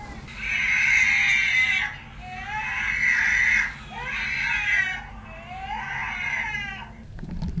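A baby screams and cries in long, loud, high wails, about four drawn-out bursts with short breaths between them, close to the microphone and alone without talking.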